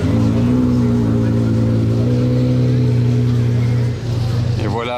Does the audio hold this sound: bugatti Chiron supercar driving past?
yes